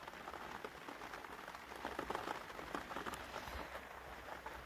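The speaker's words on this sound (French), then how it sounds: "Ah bah ça y est, il pleut" Steady rain patters on a camper van, a soft, dense hiss of droplets continuing throughout without pause.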